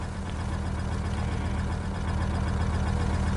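A Ford F1000 truck engine in the video game Farming Simulator runs steadily at idle, a continuous low rumble that stays close and even throughout, with no talking.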